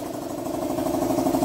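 A Motor Star motorcycle engine runs steadily at idle, a close, even low rumble that lasts throughout with a faint rhythmic pulse and no talking.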